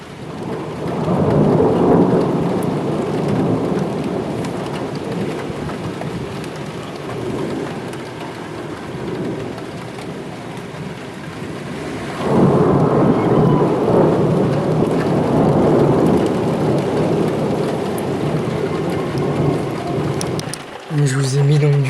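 Heavy rain pours steadily through a strong summer thunderstorm over Sallanches in the French Alps, with deep thunder rumbling overhead; a loud renewed burst arrives midway, and a voice speaks faintly beneath the storm.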